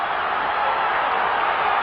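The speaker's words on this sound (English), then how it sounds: "Listen to this crowd." A wrestling arena crowd roars in a dense, steady wall of cheering that holds at an even, loud level throughout with no clear breaks.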